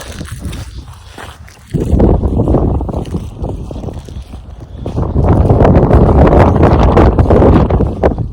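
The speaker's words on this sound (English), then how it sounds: "There's a little bit of wind here." Wind buffeting a microphone outdoors in a forest during a wheel loader service, loud rumbling gusts that surge after a calmer opening and stay heavy to the end, no speech.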